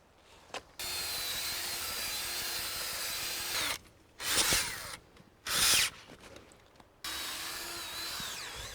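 A drill-powered auger boring into garden soil for transplanting blackberries, heard close as a loud whirring motor in several bursts with short pauses between them.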